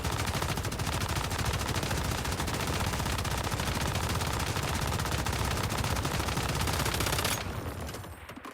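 A light machine gun in a video game fires in one long, continuous, loud burst that stops abruptly near the end, with no talking over it.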